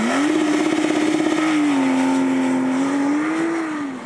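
A Porsche Targa 4 GTS accelerates hard with a loud, close engine roar, its pitch climbing and levelling through gear changes.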